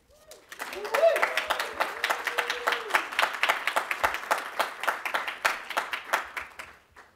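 An audience applauds to welcome a speaker to the stage at the SPS Next 2024 event, with a dense, steady clapping that swells quickly, holds for several seconds and then fades out.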